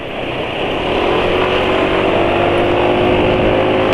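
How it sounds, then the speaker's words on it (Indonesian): A rough-running motorcycle engine drones steadily and loudly at close range, with a constant hum and no other sounds. "Ini suara mesin ya sudah kasar ya."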